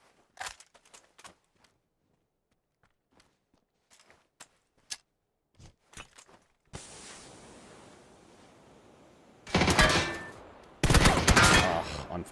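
PUBG gunfire on PC: scattered sharp single shots and footstep-like ticks, then a sustained noisy stretch and two loud dense bursts of rapid automatic fire near the end, with no talk.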